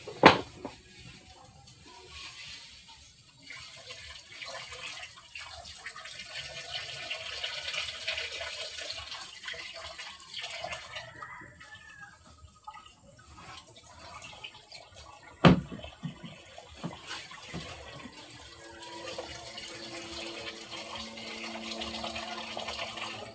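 Vegetables washed under a running kitchen tap: a soft continuous stream of water with splashes and handling, a sharp knock near the start and another midway, then a faint hum toward the end.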